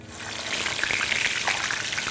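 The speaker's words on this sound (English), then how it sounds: "Since it's frozen, it will have some amount of water on it or ice, so it's surely going to splutter like this." Frozen potato wedges hit very hot oil and sputter loudly, a close, dense crackling and hissing that builds quickly and continues without pause, with no talking.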